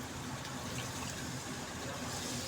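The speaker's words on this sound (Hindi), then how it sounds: "अब इसके अंदर फ़ौरन हमने हल्का सा पानी का छींटा ऐड कर देना है।" A splash of water hits a pan of frying onion masala for moong dal, setting off a steady, loud hiss and sizzle that fills the whole moment without any talking.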